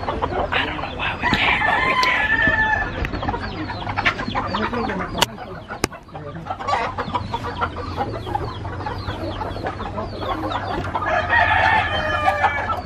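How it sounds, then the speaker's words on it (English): A large flock of chickens clucks constantly and densely, with roosters crowing loudly near the start and again at the end, the whole yard busy and close. "Look at all these chickens."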